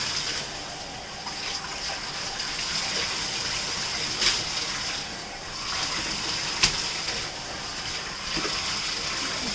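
Water rinses over surfaces while a bathroom is cleaned, a steady broadband wash running throughout with a couple of brief louder splashes or knocks.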